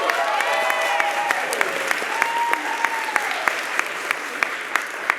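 Audience at a science communication competition final applauding, steady moderate clapping with a few sharper individual claps standing out, while voices chatter and call out over it.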